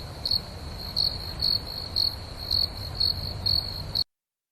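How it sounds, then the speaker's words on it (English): A cricket sound effect chirps in a steady pulsing pattern, about two bursts a second, bright and clear over a faint hiss, then cuts off abruptly. "We have to insert a crickets effect, I think, right there, Max."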